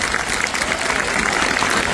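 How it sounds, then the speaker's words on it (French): Applause for Alan Resnick and Feldup at the On Vous Ment! 2025 event, a steady dense wash of clapping from an audience that holds evenly for two seconds and cuts off at the end. "petite séquence d'applaudissements pour Alan Resnick et Feldup"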